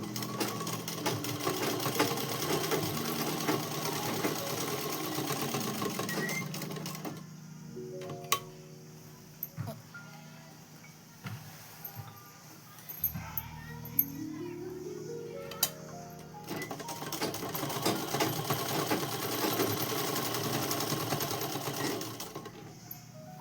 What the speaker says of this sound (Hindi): आपको बिल्कुल उसी तरह से सिलाई लगानी है।